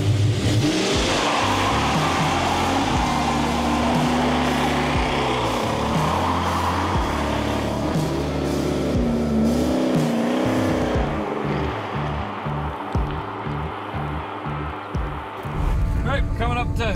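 A 1967 Pontiac GTO with a rough idle drives along. Its engine drones loudly and steadily, rising and falling slightly with the throttle throughout.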